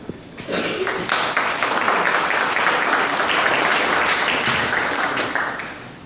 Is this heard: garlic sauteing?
no